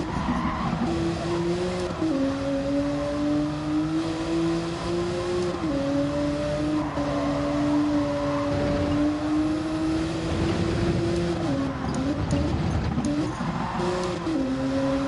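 Honda NSX GT500 race car in Gran Turismo 7 at Spa, its engine droning loud and continuous with pitch rising and dipping through gear changes, tire squeal mixed in, no voices.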